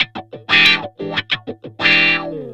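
An electric guitar played through a Blackwa wah pedal model on a HeadRush pedalboard, set for a psychedelic tone. Loud, close phrases of short plucked notes and two longer sustained notes sweep in tone as the wah opens and closes.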